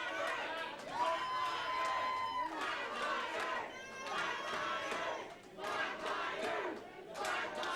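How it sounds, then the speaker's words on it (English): A crowd at a Canadian independent wrestling event cheers and shouts in continuous loud waves that swell and dip, with some chanting voices rising above the din. "Some in the crowd wanted the Fraternity, but sounds like the majority of them are for the Flatliners."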